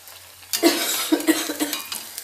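Potato pakora fry in hot oil. A sudden sizzling hiss starts up and carries on, broken by several sharp clinks from a utensil at the pan.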